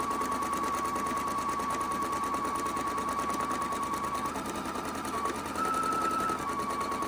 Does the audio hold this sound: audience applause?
no